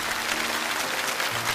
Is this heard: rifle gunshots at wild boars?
no